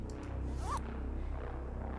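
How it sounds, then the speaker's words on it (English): A single short zipper pull, fairly faint and brief, rising quickly over a low, steady background hum with no talking. "you hear a zip"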